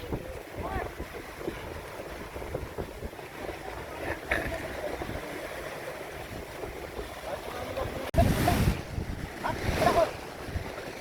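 Choppy sea waves slapping against a small boat on a trip off Daanbantayan, Cebu, with wind buffeting the microphone and a louder surge of splashing near the end.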